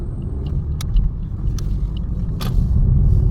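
A cement truck drives through an open construction site for a new city near the Kuwait border, making a steady low engine rumble that swells slightly toward the end, with a few faint clicks and no voices.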